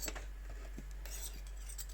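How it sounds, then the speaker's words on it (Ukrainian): A few light taps on the metal casing of a Xiaomi power bank give short, bright, ringing clicks, close and quiet against a low background hum. "Дзвінкий метал."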